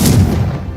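A single short, booming blast from the Confringo fire spell in Hogwarts Legacy, loud and close, decaying quickly.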